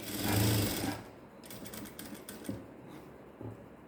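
A sewing machine runs a long stitch through a blouse seam, a loud steady whir at first that drops to softer, uneven stitching with a few sharp clicks.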